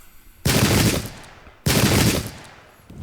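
Two loud, close rifle volleys from troops in a Zulu War battle game at Ulundi, each a sharp crashing blast that rolls and fades over about a second, separated by a short pause.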